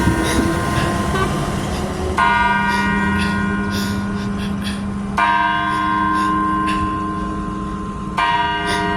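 Church bells in Stafford, Connecticut ring out at noon, with three slow, resonant strikes spaced a few seconds apart, each ringing on and decaying under steady outdoor background noise.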